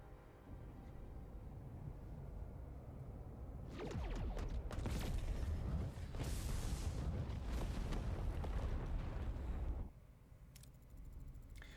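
Tri-cobalt devices fire and detonate in a Star Trek Voyager space game, a dense, roaring rumble of layered booms and bursts that swells after a quiet start, holds loud for several seconds, then cuts back to a low hum.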